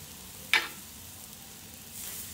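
Peppers and onions cook on a flat griddle with a faint, steady sizzle, a single sharp scrape or clatter near the start, and the hiss swelling slightly at the end, with no talking.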